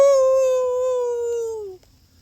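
A single human voice imitates a wolf, holding one loud, steady howl for nearly two seconds before it bends downward and cuts off into quiet.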